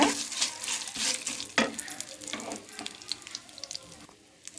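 Spices and turmeric fry in a pan for ajwain rice, giving a steady sizzle with scraping stirs and a few sharp clinks, loud at the start and easing off toward the end, with no talk.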